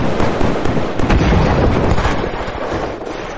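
Gunfire in the video game Killzone 3 roars in a dense, loud burst of rapid shots and explosions, close and sustained for a few seconds without pause.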